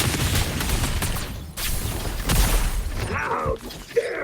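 Rapid gunfire and crashing impacts in the Android action game Wuthering Waves form a loud, continuous barrage with brief pauses, ending in scattered game effects.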